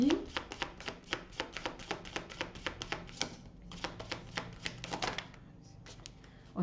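Tarot cards are shuffled in a rapid run of crisp, evenly spaced flicks and riffles, close and fairly quiet, with a short pause midway and a few final taps as cards are drawn.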